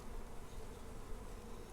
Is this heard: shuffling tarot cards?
no